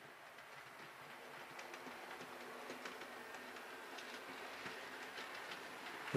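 Hornby R3434 SR Merchant Navy Class 4-6-2 'Channel Packet' model steam locomotive hauling eight coaches around curved track, giving a steady, quiet rolling rumble with faint clicking over rail joints and no talk.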